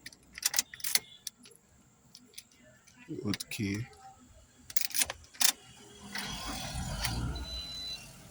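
A Toyota RAV4 being started with an old key: metallic key jangles and clicks from the ignition, then a brief cranking and the engine catching into a steady idle near the end.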